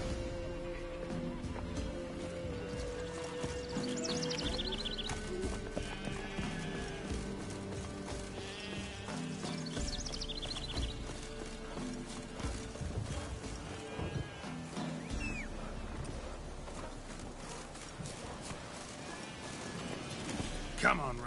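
Roach, the horse in The Witcher 3, galloping with a steady rhythmic drum of hooves across the whole stretch, kept at moderate level under music and ambient game sound, with a few brief whinny-like calls.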